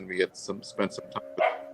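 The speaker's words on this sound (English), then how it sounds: "Sorry, my dog's barking," A dog barks somewhere in the house behind a person who keeps talking, the few yips faint and partly buried under the nearby voice.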